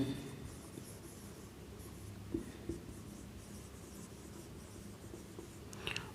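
Pen scratching faintly and steadily on paper while a geometry proof on triangles using Thales' theorem is written out, with a couple of small taps and no voices.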